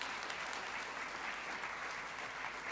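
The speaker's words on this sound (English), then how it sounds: "Applause." Audience applause at an award ceremony, a dense steady wash of many hands clapping, distant and faint, continuing evenly without a break.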